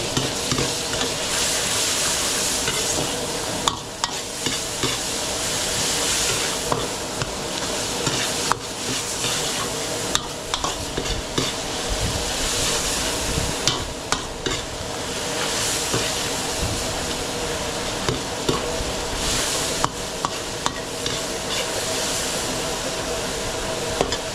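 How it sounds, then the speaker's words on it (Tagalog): Fresh bagoong shrimp paste sautés in a pan at an outdoor farm setting, a loud, continuous frying hiss with occasional sharp clicks and stirring knocks, close and steady throughout, with faint voices in the background. "Gigisa muna natin, tapos babawasan natin, baka mapalat tayo."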